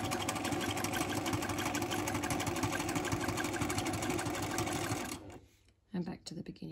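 A sewing machine runs fast and steady during free-motion quilting, filling a grid on a quilt block with a continuous rapid stitching whir, then stops abruptly near the end, followed by a few brief clicks.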